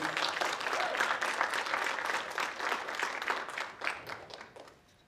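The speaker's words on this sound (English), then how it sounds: "Let's give Jasa a round of applause" An audience at a drum and dance demonstration applauds a young fancy dancer, dense sustained clapping that stays loud before tapering off and fading near the end.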